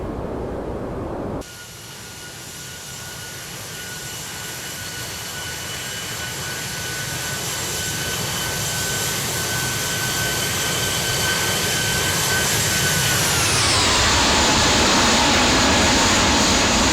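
Jet airliner engines roaring at full takeoff power in the X-Plane 12 flight simulator, departing Munich, a loud steady roar with a high whine that climbs, then dips in pitch near the end.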